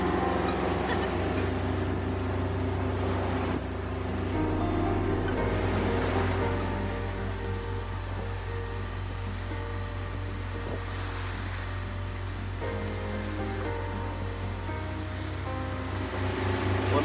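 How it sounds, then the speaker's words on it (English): A sailboat motoring with a first reef in the jib pushes through waves, giving a continuous wash of water and a low engine drone that run steady and loud throughout. "We're motoring, but we also have a first reef in the jib up just to give us some stability."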